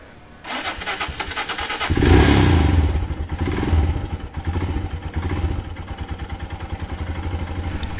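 A motorcycle left unused for ten months cranks and fires up, the engine catching after a short start attempt and settling into a loud, close, rapidly pulsing idle.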